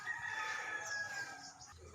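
A rooster crows faintly in a backyard flock of hens, one drawn-out call heard at a distance over quiet farmyard background.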